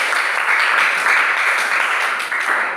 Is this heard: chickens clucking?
no